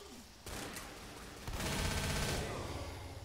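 Gunfire in Left 4 Dead, sustained rapid automatic bursts layered with game noise, loud and close, swelling midway through.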